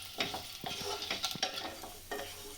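Eggs frying with turmeric and homemade masala in a pan for anda tawa masala, a steady sizzle broken by repeated scraping stirs, close and fairly loud with no talking.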